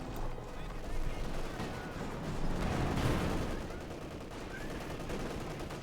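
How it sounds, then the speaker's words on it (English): Dense, continuous gunfire from a Company of Heroes 2 battle, with machine guns including a Maxim rattling in sustained bursts over rumbling explosions at a steady loud level throughout. "Take the Maxim with some good light machine gun fire."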